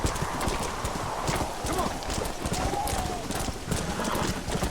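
Horse hooves clip-clop steadily while riding in the video game Red Dead Redemption, a continuous galloping rhythm close up, with an occasional whinny and a voice talking over it.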